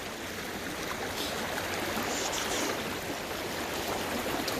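A freestone stream rushes over rocks in a continuous, even wash of water, fairly soft and steady from start to finish, with no voices.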